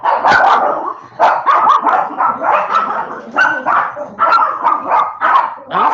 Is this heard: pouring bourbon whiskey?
no